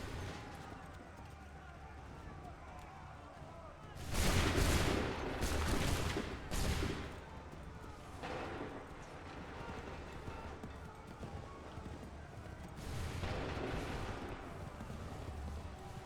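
Soldiers fire musket volleys on the battlefield of the Assassin's Creed III video game: dense, loud bursts of several overlapping shots around the middle and again later, separated by quieter stretches of ambient noise.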